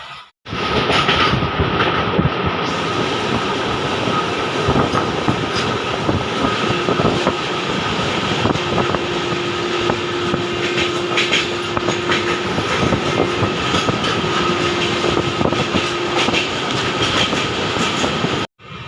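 Amrit Bharat Express train running between Malda Town and Bengaluru, heard near Pakur station: a steady, loud rumble of wheels on rails with faint clickety-clack, continuous throughout with no talking.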